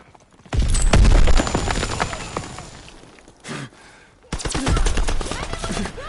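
Heavy gunfire in Call of Duty WWII, dense bursts of rapid shots and sharp cracks, loud and close, with a brief pause before another burst resumes.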